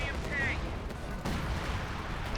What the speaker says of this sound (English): it's that artillery, I guess